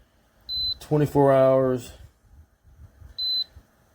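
A POMORON 4-in-1 home air purifier with ionizer gives two short, clear high-pitched beeps as its timer setting is changed, one before and one after a brief spoken phrase.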